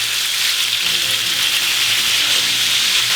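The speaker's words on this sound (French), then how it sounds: "huile végétale, un petit fond, on égalise et la viande dans la poêle" Lamb meat searing in a thin layer of hot vegetable oil in a frying pan, a steady, dense sizzle holding at even loudness throughout with no talk.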